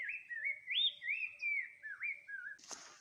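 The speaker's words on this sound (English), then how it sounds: "you dey hear that sound? I dey like that bird well well." A bird sings from a tree on a farm, a clear run of sliding, warbling whistled phrases that rise and fall continuously, fairly close, followed by a short sharp burst of noise at the end.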